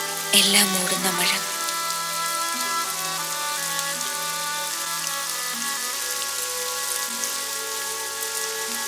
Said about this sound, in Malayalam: എല്ലാം മൂടുന്ന മഴ.